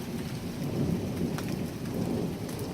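Christmas thunderstorm in Nebraska with steady heavy rain pouring on wet streets and low thunder rumbling beneath, continuous and fairly close, with no talking.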